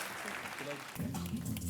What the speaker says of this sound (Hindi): तालियां बजते रहें देवी से।